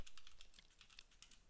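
Quick, light keystrokes on a computer keyboard while writing an HTML page title, a rapid irregular run of close, clicky taps with no talking.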